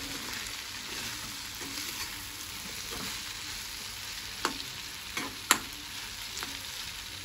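Sprigs of tender curry leaves fry in hot oil while an Andhra-style vegetarian thali is cooked. A steady, soft sizzle runs throughout, broken by a few faint clicks and pops. No one speaks.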